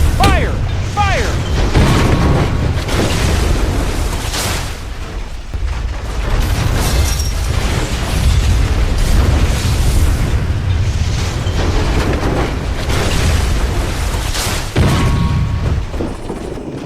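Gunfire and explosions from an animated war film about a Marine company taking a town: loud booms, bursts of fire and rumbling blasts repeat throughout, with shouted voices mixed in.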